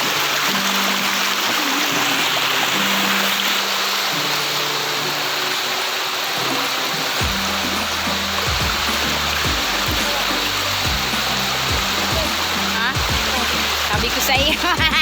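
Water rushes continuously at Irosin Dam in Bicol Province, a loud, steady broadband roar that fills the whole span while people talk over it.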